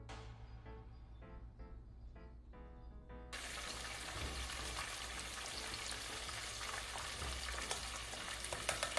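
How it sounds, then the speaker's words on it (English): Steady, loud sizzling of shrimp frying in hot oil, a dense crackling hiss that swells after a few seconds and continues without pause. "I'm frying this until I start to see that they are golden brown"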